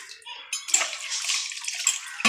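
Water splashes and pours over a brass vessel to rinse it for a couple of seconds, close by, with a faint voice in the background.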